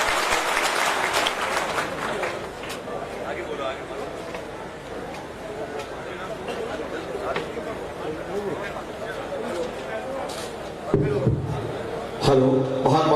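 Loud crowd applause fills a hall at a Bhomiya Rajput community gathering, sustained clapping from many hands with a little chatter, tapering slightly before bursts of renewed clapping near the end.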